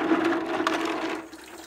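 Water splashes and trickles close by as a toy spaceman figure gets a quick rinse, a short burst of running water that fades toward the end.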